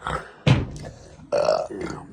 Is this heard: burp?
yes